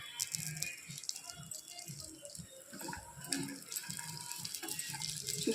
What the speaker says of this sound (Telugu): ఇలా అన్ని నట్స్ నెయ్యిలో లో ఫ్లేమ్లో పెట్టుకొని బాగా వేయించుకోవాలి